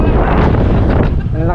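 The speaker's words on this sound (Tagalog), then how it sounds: "Ang lakas ng hangin" Loud, blustery wind buffets the microphone in a constant roaring rush on a road in Taiwan, close and overpowering for a brief moment.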